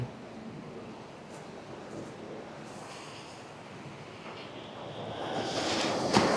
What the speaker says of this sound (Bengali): দেখুন কি গর্জন, কি ঢেউ, কি বিশাল এক সমুদ্র